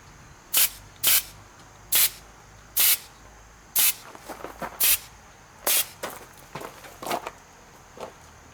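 A sprayer puffs wood ash in a series of about ten short, sharp hissing bursts at uneven intervals, fairly close and loud, with quieter crackling between them.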